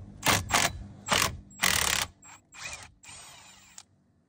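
A T30 screwdriver works screws loose, giving several short bursts of ratcheting, gritty clicks in quick succession, then a softer scrape and a brief squeak as a screw comes free, all close up with no talking.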